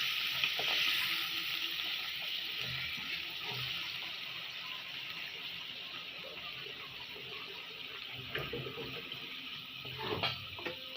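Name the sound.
spinach frying in oil with garlic and onion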